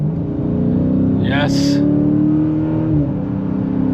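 A 2023 Dodge Challenger R/T ScatPack Swinger V8 with an 8-speed transmission accelerating, its engine drone rising and shifting loudly under brief talk from the driver.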